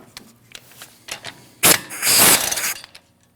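A ratchet wrench clicks in quick bursts, then a loud ratcheting rattle, while an E5 Allen bolt is removed from the rear brake rotor of a 2022-2025 Lexus NX350, close up with no talking.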